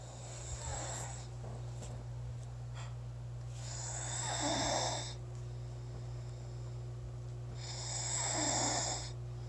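A woman snores while asleep, loud rasping snores repeating at a slow, regular breathing rhythm over a steady low electrical hum.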